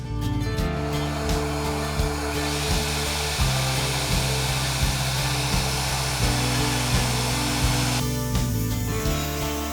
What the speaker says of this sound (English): now we can just turn it on and start cutting